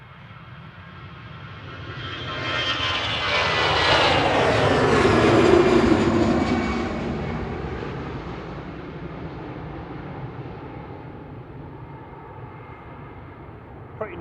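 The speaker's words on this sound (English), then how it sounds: "Pretty noisy A320 Classic going past us there with flight 2229 heading back to Prague" An older Airbus A320 Classic jet passes at Manchester Airport, its engine roar swelling to a loud peak with a falling whine, then easing into a lower lingering rumble.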